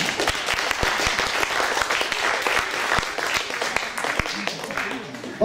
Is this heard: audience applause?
yes